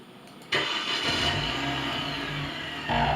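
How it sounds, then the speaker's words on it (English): A downloaded car engine-starting sound effect: a brief quiet lead-in, then the engine cranks and catches into a loud, steady running roar, with a slight rise in revs near the end. "There's a car engine starting, drum loop, and electric guitar sound."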